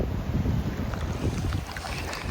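Wind gusting steadily over a storm-battered fishing dock with missing boards after a tropical storm, a dense continuous roar with low rumbling buffets close to the microphone, no voices.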